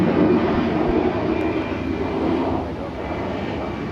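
A Delta Express jet airliner bound for Evansville roars steadily on the runway at Atlanta airport, a broad sustained engine rumble heard from a distance that eases slightly toward the end.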